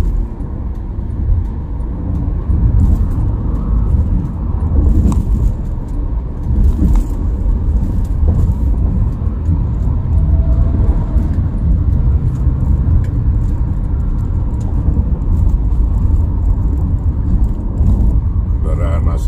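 A car travels along the Trans-Java toll road in the morning with moderate traffic, giving a continuous loud low rumble of engine and road noise. A voice talks intermittently over it throughout.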